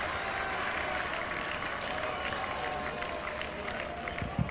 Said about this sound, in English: a lot of cheer from the crowd